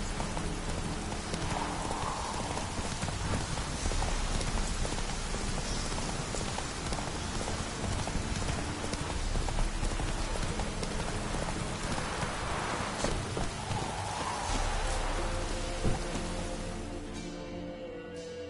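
In The Witcher 3 video game, a horse gallops through rain, with steady hoofbeats running the whole way under a constant hiss of rainfall and no voices.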